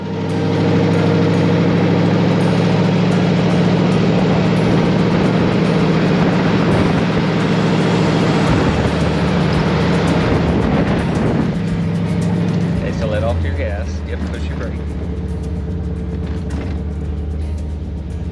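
A roadster's engine runs steadily while driving, a loud continuous drone with road rumble that eases slightly toward the end.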